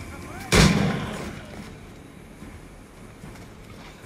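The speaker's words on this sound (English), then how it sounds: "No man's immune to a pistol shot, I reckon." A single loud pistol shot in the pirate-era game Assassin's Creed 4 Black Flag cracks out early, then trails off into a long fading rumble with quiet game ambience.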